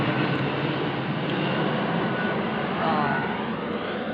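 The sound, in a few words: airplane flying overhead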